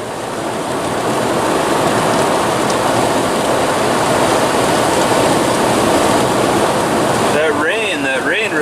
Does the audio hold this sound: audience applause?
no